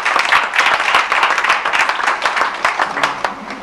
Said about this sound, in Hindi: पूरा सदन इनकी जोरदार तालियों से कर स्वागत करें